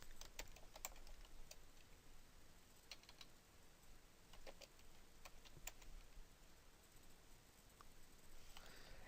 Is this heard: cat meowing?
no